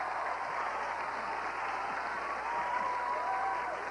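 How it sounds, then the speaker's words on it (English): A game-show studio audience gives contestants a round of applause, a sustained wash of many hands clapping evenly with a faint tonal hum underneath and no voices. "How about a round of applause for all our contestants?"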